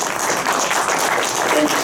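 An audience breaks into applause for a congressional chairman at an event in the U.S. Capitol, a short burst of steady crowd clapping with voices mixed in.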